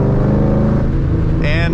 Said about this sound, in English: The exhaust in this car is stock headers still, a BDK catless X pipe,